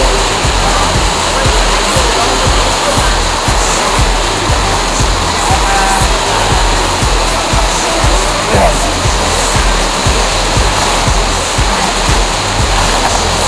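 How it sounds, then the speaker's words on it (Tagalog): Steady roar of a waterfall seen in the distance, a broad continuous rushing wash of water that fills the scene at constant loudness throughout. "Look at the falls over there."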